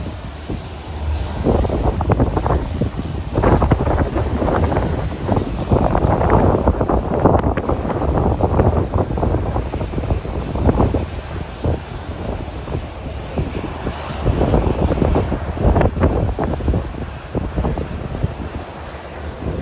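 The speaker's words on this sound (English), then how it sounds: "And while this guy's taking off, we have a United Express Mitsubishi aircraft getting ready to fly to Chicago." An airplane takes off at Burlington International Airport in Vermont, a loud sustained engine roar that swells and rumbles for around twenty seconds, heard from nearby on the ground.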